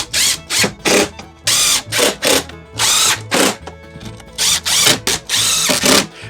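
A power drill with a hole saw bores into panels for a camper dining area, heard up close in loud repeated bursts, each lasting under a second, separated by short pauses.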